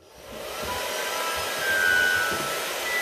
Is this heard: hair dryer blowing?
yes